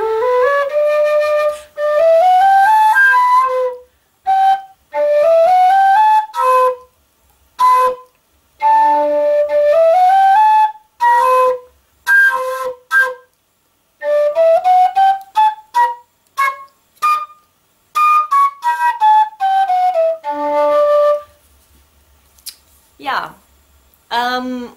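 A custom Celtic tin whistle by Chris Wall is played up close in loud, breathy runs of rising notes and short phrases, with brief pauses between attempts.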